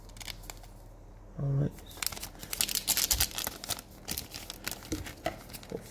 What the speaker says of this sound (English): And let's crack open this promo card.